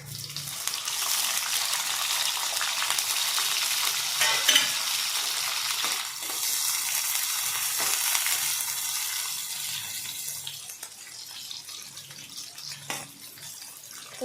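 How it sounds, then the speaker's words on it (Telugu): Onions and green chillies fry in a generous amount of oil for bitter gourd fry, giving a dense, continuous hissing sizzle up close with a few soft stirring knocks, no voices. "ఫ్రై కావాలి, కొంచెం లైట్ గోల్డెన్ కలర్ వచ్చేదాకా ఫ్రై కావాలి"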